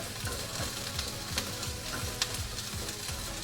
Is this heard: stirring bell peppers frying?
yes